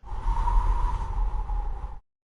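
Wind blows in a steady, rushing gust with a deep low rumble and a soft hollow whistle, holding moderately loud for two seconds before cutting off abruptly.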